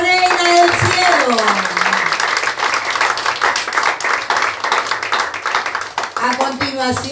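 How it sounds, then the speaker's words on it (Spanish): Applause and clapping from a congregation at a home Purísima celebration honoring the Virgin Mary in Nicaragua, dense and steady for several seconds, with sung or spoken voices over it at the start and end. "Aplauso a la Reina del Cielo."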